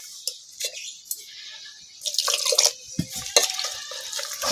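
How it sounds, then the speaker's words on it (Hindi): Water trickles into wheat flour in a pot and gets stirred with a ladle, with soft drips and scraping stirs coming in short bursts that grow busier toward the end, close and moderately quiet. "तो अब हम इसमें पानी दे देते हैं, और पानी दे के हल्के हल्के में सभी को चला लेते हैं।"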